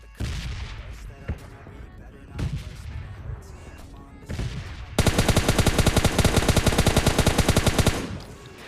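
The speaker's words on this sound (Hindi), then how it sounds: "तभी भाई ये वाला बंदा फायर करता है" Rapid automatic gunfire from PUBG Mobile Lite erupts halfway through, a dense, loud burst of evenly spaced shots lasting about three seconds, preceded by scattered single shots and game noise.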